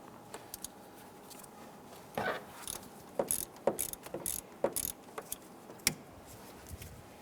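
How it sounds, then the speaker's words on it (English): A ratchet with a 9/16 socket loosens a bracket nut on the exhaust manifold of a 1995-2001 Ford Explorer, giving quiet bursts of rapid clicking with pauses between strokes, close by. "I'm going to go ahead and use our 9/16 socket on that."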